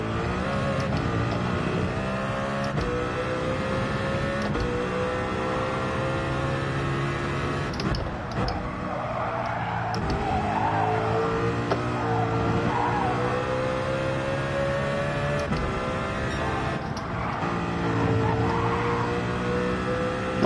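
A race car engine in Gran Turismo 7 drones and revs steadily at close range, holding a sustained high pitch with small surges and slides for about twenty seconds, with no talk over it.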